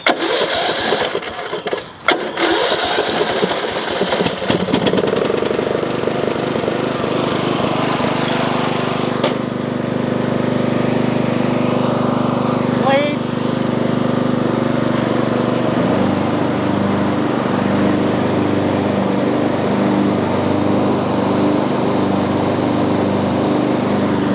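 A small engine cranks and fires after its fuel tank has been cleaned, then settles into a steady, loud, buzzing run that carries on alone for the rest of the stretch.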